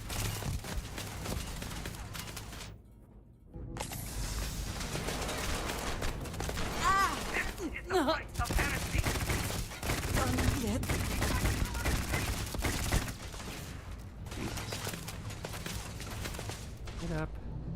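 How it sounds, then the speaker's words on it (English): Gunfire in Starfield, the space shooter game, as turrets are fired on: rapid bursts and repeated shots crackle over a continuous rumble of game sound, with a brief quiet gap and talking mixed in. "Shooting the turrets is hard."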